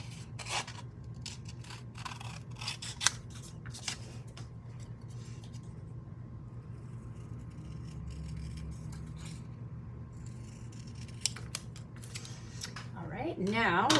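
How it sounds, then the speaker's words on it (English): Scissors fussy cut paper for a gift card box, giving a quiet run of small snips and rustles over low background hum, with a few sharper clicks and a brief scrape at the end. "And then I'm just gonna fussy cut that."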